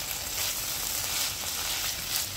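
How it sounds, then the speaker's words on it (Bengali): Bitter vegetable curry with mustard paste stirred in a pan, giving a steady, close sizzle of frying with faint scraping throughout and no voices. "আর দিচ্ছি সর্ষে বাটা। ভালো করে এবার আমি মিশিয়ে দিচ্ছি।"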